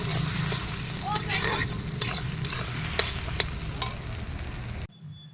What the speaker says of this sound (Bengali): টমেটোটা ভাজা করছি।